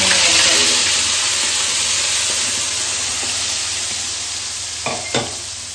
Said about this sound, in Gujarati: આપણે જે ગ્રેવી બનાવી છે ડુંગળી ટામેટાની એને એડ કરી દઈશું